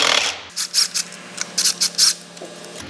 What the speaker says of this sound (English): I take and I remove this clamp right here